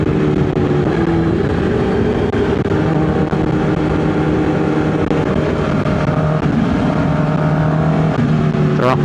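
A truck passing on a road, a loud, continuous engine rumble and drone with shifting tones that fills the whole stretch, close by.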